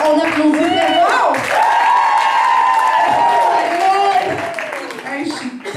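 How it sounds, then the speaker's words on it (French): Audience at a French-language comedy show applauds and cheers loudly to vote, with whoops and shouting voices over the clapping before it tapers off. "Ceux qui pensent que le go-go boy, c'est June, on applaudit très fort."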